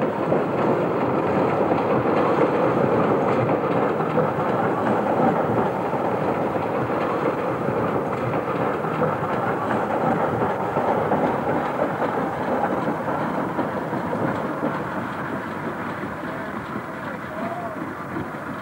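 A steam locomotive runs on a flat stretch of line north of Ambarawa, Indonesia, giving a steady, loud rumble and rolling clatter that stays constant throughout while a narrator talks over it.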